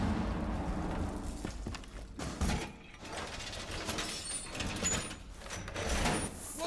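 A wall being reinforced in Rainbow Six Siege on the Border map: metallic ratcheting, sliding and clanking mechanism sounds at moderate distance, amid busy game noise.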